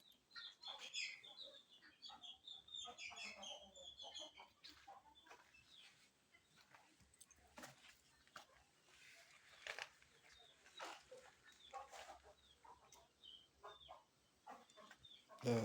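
Chickens in a modern commercial rearing house cluck and squawk in a busy, overlapping chorus, close by and continuous, with scattered sharp clatters among them.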